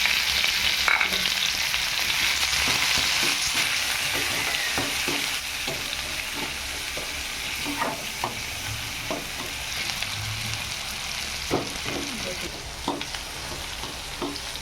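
Onion sizzling in hot oil with cumin and mustard seeds in a pan, a loud steady frying hiss with occasional stirring scrapes and pops throughout.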